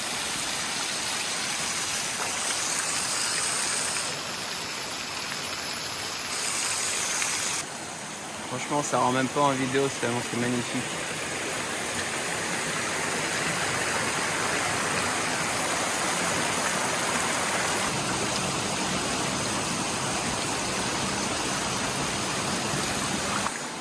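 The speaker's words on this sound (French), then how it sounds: "Et là il y a une cascade de mousse mais elle n'en finit pas du tout." A waterfall cascading into a turquoise river pool, a loud, continuous rushing roar heard close, with a brief stretch of a person speaking over it midway.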